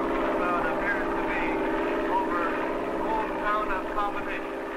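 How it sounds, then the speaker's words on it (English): Steady propeller-engine drone of a cloud-seeding aircraft fitted with silver iodide burners, flying continuously and fairly loud throughout, with a narrating voice over it. "The plane is spreading a trail of invisible chemical smoke"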